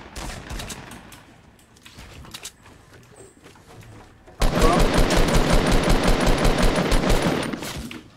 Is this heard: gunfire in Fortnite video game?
yes